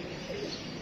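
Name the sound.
pigeon cooing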